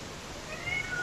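A pet cat gives a faint, thin meow in the second half, quiet under a steady hiss of background noise, with no one talking.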